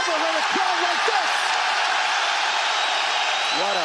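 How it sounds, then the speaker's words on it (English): Huge arena crowd at a UFC fight roars continuously, a dense loud wall of cheering and whooping, with a commentator speaking over it at the start and end. "Have you ever heard a crowd like this?"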